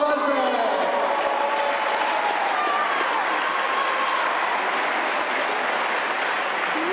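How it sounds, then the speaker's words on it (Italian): Loud, dense applause from a crowd fills the whole stretch, steady and continuous without a break. "Un applauso a Walter."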